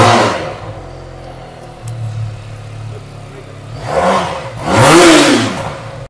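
A motorcycle engine at a Benelli showroom in Guwahati idles, then is revved in two sharp bursts near the end, close and loud.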